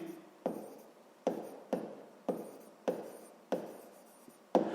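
Pen writing on paper, a quiet close series of about seven short scratchy strokes in an uneven rhythm, each starting sharply and trailing off, with no talking.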